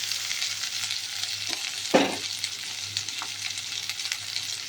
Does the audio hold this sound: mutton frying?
yes